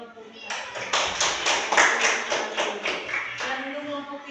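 Schoolchildren in a classroom clap together in a quick, rhythmic burst of about a dozen evenly spaced claps, loud and close, ending in a short trailing note.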